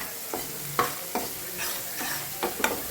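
Onion with turmeric and salt cooks in a pan, stirred in a handful of close scraping strokes over a low continuous sizzle, with no one speaking.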